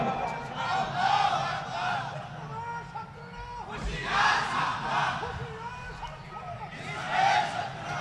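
A large crowd at a Bengali religious sermon (waz) chants slogans in loud, surging bursts, rising around the start, middle and end, with many voices overlapping in a roaring, rhythmic cheer.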